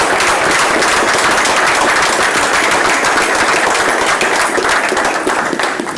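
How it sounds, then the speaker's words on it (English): A city council committee meeting bursts into a loud, sustained round of applause for a paving crew, with dense, even clapping from the whole room lasting several seconds. "if you would join me in giving them a round of applause"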